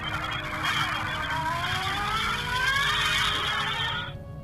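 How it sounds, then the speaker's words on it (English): A tiny BMW-themed phone plays a car sound effect at boot-up: a continuous, loud engine roar with rising whines and tire-squeal sweeps, cutting off abruptly near the end. "that was the sound of a BMW right there."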